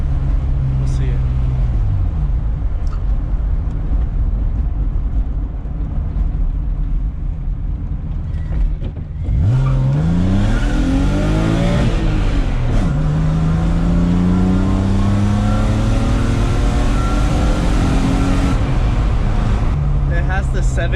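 A car idles at a red light, then accelerates hard, its engine revving up through rising gear pulls toward a 7,000 rpm limiter, loud and close from inside the cabin, with a voice speaking over it.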